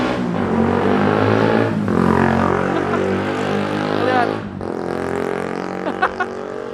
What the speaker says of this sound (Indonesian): Ada suara motor, ada suara mobil